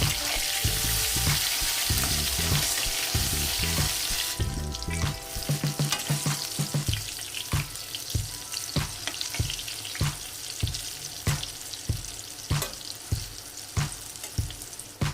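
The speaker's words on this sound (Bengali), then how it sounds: "প্রথমে আমি বেগুনকে লাল করে ভেজে তুলে রাখবো" Eggplant pieces fry in hot oil in a home kitchen, a loud hiss settling into steady sizzling, with repeated sharp clinks of a spatula stirring and turning them.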